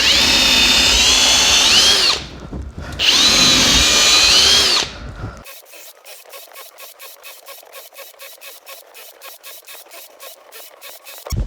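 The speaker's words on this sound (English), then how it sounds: "First up is the Kobalt drill, 1/4 inch drill bit. We're going to do 25 holes" A Kobalt cordless drill on speed 2 bores many holes with a 1/4 inch bit in rapid succession, a long run of short, even whirring bursts up close after a few seconds of louder broadband noise.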